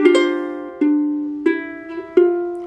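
Four ukulele notes plucked one after another, each left ringing so they overlap and blend, clear and close.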